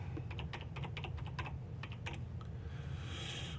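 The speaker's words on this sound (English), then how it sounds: "We can type in YouTube." Quick, crisp keystrokes tap on a computer keyboard, clicking in brisk irregular bursts for a few seconds at close range.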